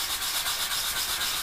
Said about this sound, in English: and sort of doing circular motions and literally just very lightly sanding down